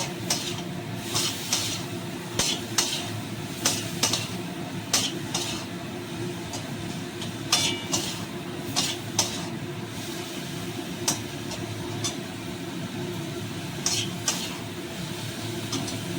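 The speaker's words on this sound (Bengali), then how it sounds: "এবার আমি এটাকে ভালো করে একটু কষে নেব" Chilli powder and spices with a splash of water sautéing in a pan for a tangy fish-roe and mango curry, a steady low sizzle with repeated spatula scrapes and clinks throughout.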